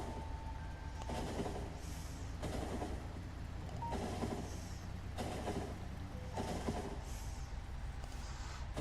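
A train in the video game Factorio rolling along with a steady low rumble and periodic bursts of rattling clatter, moderately faint and continuous, with no voices.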